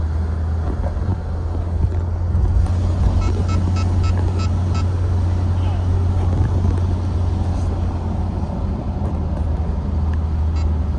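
Steady stream of cars driving into a busy tourist town, a continuous low engine and road rumble with wind buffeting the microphone, no clear individual passes.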